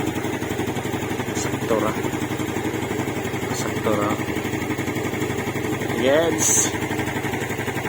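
A Yamaha Mio Sporty scooter engine runs steadily at idle close by, a continuous buzzing drone with a few brief higher squeaks, while someone speaks over it.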